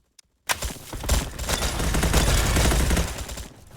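Automatic gunfire in the Roblox shooter Bad Business, an Icicle Launcher conversion: a single early shot, then a loud, sustained rapid burst running nearly three seconds before cutting off.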